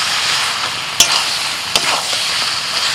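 Malabar spinach with vegetables frying and being stirred in a pan, cooking in its own released water with a pinch of sugar, a bright steady sizzle with two sharp utensil knocks against the pan, close and fairly loud, no talking.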